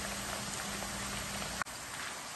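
Homemade potato chips frying in hot oil, a steady crackling sizzle like light rain, with a single brief clunk partway through.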